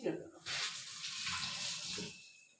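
Running tap water splashes steadily into a kitchen sink during dishwashing, a continuous hiss that begins after a brief pause and runs close by, with faint speech underneath.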